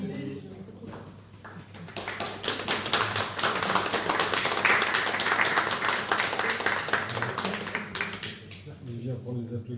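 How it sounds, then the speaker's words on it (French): An audience at a Pentecost church gathering claps together, a dense patter of hands swelling for several seconds and then thinning out, with voices audible alongside. "c'est lui qu'on applaudit"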